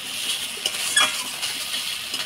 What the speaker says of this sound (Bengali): মশলাটা ভালো করে নাড়াচাড়া করে নিলাম।